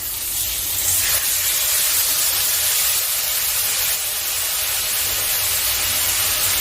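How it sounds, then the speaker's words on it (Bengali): Soaked spice paste of cumin, coriander, chili powder and turmeric with a little sugar hits a hot pan for a fish curry, giving a steady loud hiss and spray of steam that holds throughout with no talking. "জল দিয়ে ভিজিয়ে রেখেছিলাম এই মশলাটা আমি দিয়ে দিচ্ছি"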